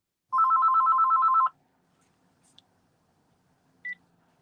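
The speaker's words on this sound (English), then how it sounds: "That's just me calling, Reggie." An incoming call sets a telephone ringing: one continuous electronic ring burst of about a second, then near silence and a brief higher beep.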